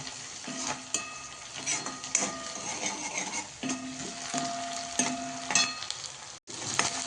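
Tomato and mixed vegetables sauté in hot oil for schezwan fried rice, a steady sizzle broken by repeated scraping and clinking of a spatula against the pan; no one speaks.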